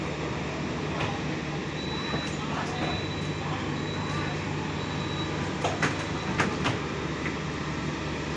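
A steady low rumble of the Indonesian Fajar Utama passenger train departing a station, with rattling carriages, a faint squeal and scattered knocks, heard from nearby under background chatter.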